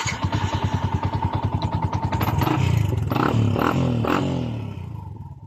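A Yamaha Sniper 155 motorcycle that won't start despite a new battery cranks with a rapid rhythmic starter chatter, then catches and idles with a rough clattering engine note that fades near the end.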